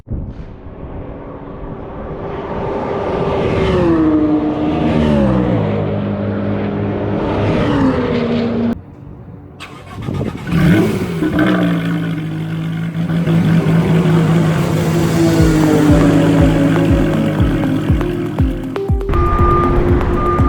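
A track-prepared BMW M3 E46 engine revs hard and pulls away onto a circuit, its pitch climbing and falling through gear changes, loud and close before cutting off abruptly.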